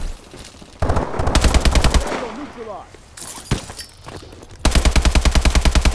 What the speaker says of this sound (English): He's got the Zeus gun. Zeus cannon, go!